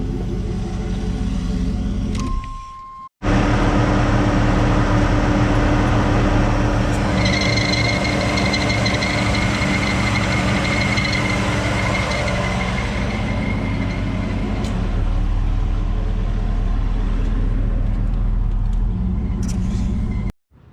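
A 1984 Camaro Z28 engine idles steadily after a brief cut, a low continuous rumble with a faint whine, running alone for most of the stretch before stopping abruptly.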